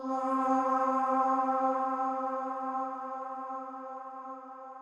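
One sustained synth pad note, a short C, rings out with a rich harmonic tone, slowly fading while still holding, with nothing else around it.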